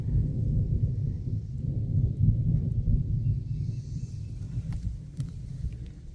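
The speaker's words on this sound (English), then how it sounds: "I don't know if you guys can hear the thunder on the video." Distant thunder rolls in a continuous low rumble outdoors in a woodland vegetable garden, steady and fairly faint, with a few small clicks and rustles near the end.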